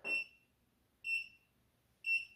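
An AKLUER walking pad treadmill gives three short, clear, high-pitched beeps evenly spaced about a second apart in a quiet room.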